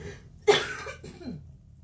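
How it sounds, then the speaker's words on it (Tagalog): A single sharp cough bursts out close by in a home kitchen during cooking, followed by a softer throaty catch and breath before quiet returns. "Ay, sorry po, umubo talaga ako."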